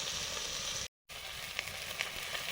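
Potatoes, cauliflower and kohlrabi frying in oil over a wood or clay stove, a steady close hiss and sizzle with a brief gap of silence, then crackling pops resuming.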